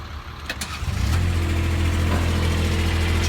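An Avant compact loader fitted with a backhoe digger attachment starts up and settles into a steady, loud engine hum with hydraulics running, close by and with no talk.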